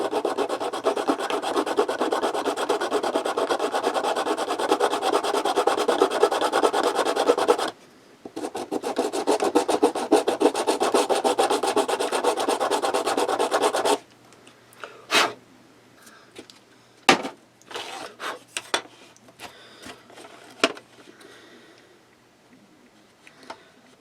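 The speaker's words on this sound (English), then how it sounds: "I'm going to sand this because you see it's got a beveled edge for corners" Sanding the beveled edge of a plastic model kit piece to flatten it, a steady loud rasping rub for about fourteen seconds with a short break, then scattered light scrapes and taps as the work is checked.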